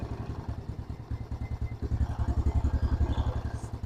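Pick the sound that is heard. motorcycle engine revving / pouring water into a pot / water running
motorcycle engine revving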